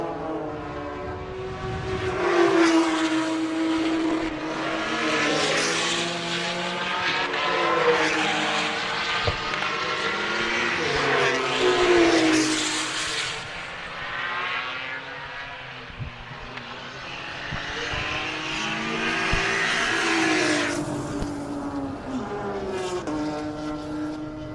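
A BMW M3 race car, number 846, runs a lap at a racing festival, its engine roaring loud and close with continuous rising and falling revs and gear changes throughout.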